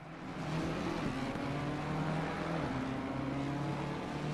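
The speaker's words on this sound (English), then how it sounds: "Just listen to the Jag's engine there. It sounds quite nice." A Jaguar GT3 race car engine in a sim racing game, racing at Zolder, holds a steady, loud, buzzing drone at high revs, with its pitch dipping and rising slightly and no pause throughout.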